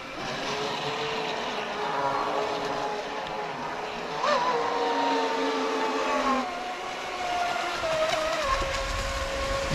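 A carbon fiber RC boat runs across water, its small motor giving a steady distant whine that rises and falls in pitch as it passes, with no talk.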